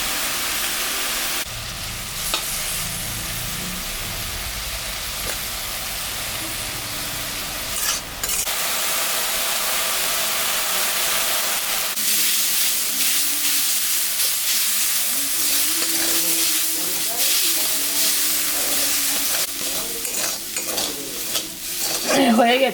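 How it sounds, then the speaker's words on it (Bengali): Bottle gourd greens, lightly salted, fry in a pan with a loud continuous sizzle and hiss, broken by bursts of stirring and scraping, close and alone without talk. "লাউ শাকটা এখন ভাজি, সামান্য একটু লবণ দিয়ে দিলাম।"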